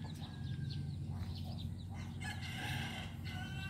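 Native chickens, including a hen, cluck and call nearby, with short bursts of bird sounds over a steady low farmyard hum; no talking.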